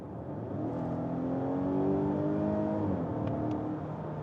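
A 2025 Volvo V60 Cross Country with a 247-horsepower engine drives along the road. Its steady engine drone and tyre roar are heard from inside the cabin, with the pitch rising slightly as it accelerates.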